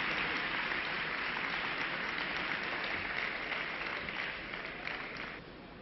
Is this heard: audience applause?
yes